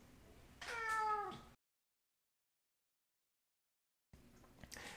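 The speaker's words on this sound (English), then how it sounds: "I'm gonna feed my cat now. He's been so patient." A hungry house cat meows once, close and clear with a rising-falling tone, followed by a long stretch of silence and then faint room noise.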